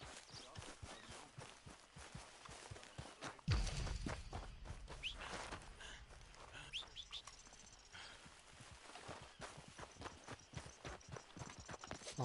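Steady clip-clop of horse hooves walking at an even rhythm in Red Dead Redemption 2, close by, with occasional bird chirps in the background.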